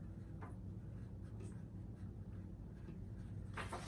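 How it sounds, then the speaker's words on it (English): A pen writing on a sticky note close up, with short scratchy strokes in bursts and pauses, quiet and alone, ending with a quicker flurry of strokes. "on my sticky note, I'm gonna write selfless"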